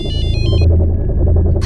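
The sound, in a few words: mobile phone ringtone ringing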